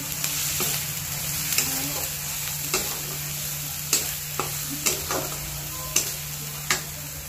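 Turmeric being stirred into a sizzling, frying mixture for shev bhaji, with a constant loud sizzle and a steady hum, punctuated by repeated sharp spoon clicks against the pan.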